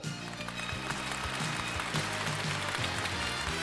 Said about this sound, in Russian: Ваши аплодисменты Шарпуди Исмаилову